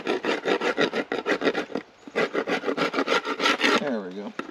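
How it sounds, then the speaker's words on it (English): Propolis is scraped off the underside of a beehive part during winterization, making a steady run of close, rhythmic rasping strokes with a short pause midway; a brief voice sounds near the end. "I have to scrape the propolis off"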